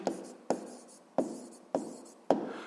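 A pen or pencil writes down the answer to a sixth-grade math problem, giving five sharp tapping strokes spaced about half a second apart, each followed by a brief scratch, close and clear with no talking.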